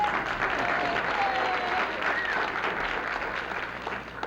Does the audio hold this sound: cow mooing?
no